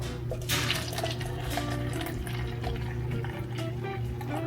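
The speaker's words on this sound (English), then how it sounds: "I do put a little water to blend this out." Water pours from a tap onto matcha powder for blending, a steady close trickle and splash with no talk over it.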